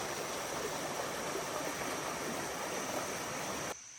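A creek along a campsite on the Benton MacKaye Trail flows steadily with a constant rushing, splashing hiss, close and fairly loud, then cuts off abruptly just before the end.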